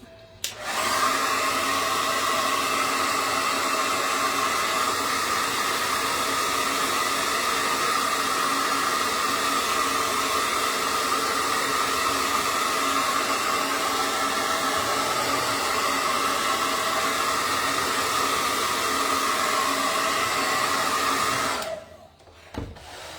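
A hair dryer runs steadily at close range to dry wet paint on a flower painting, a continuous broadband whoosh holding level for about twenty seconds before switching off.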